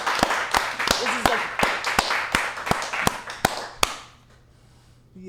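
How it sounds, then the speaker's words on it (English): A group in a podcast room claps in a slow, steady unison rhythm, about a dozen sharp claps, while someone talks over them; the clapping stops and only faint room tone remains. "I need everybody in the room to clap it up."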